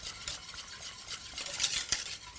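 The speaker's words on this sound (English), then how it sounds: "if you take a whisk, I've got a hand whisk here, but you can use an electric whisk if you like" A hand whisk stirs panna cotta mixture in a bowl, with quick repeated scraping and clinking strokes at close range and no voices.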